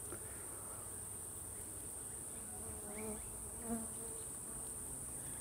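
A fly buzzes around an open Australian native bee hive during a brood inspection, a faint, steady insect drone with a brief louder pass, over a constant high electrical whine and no talk.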